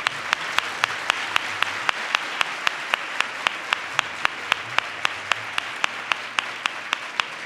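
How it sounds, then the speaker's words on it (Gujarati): Audience at a religious discourse clapping in a steady rhythm, sharp evenly spaced claps sounding together as one continuous round of applause, moderately close. "આ તાળીઓ ઓછી પડે એના માટે."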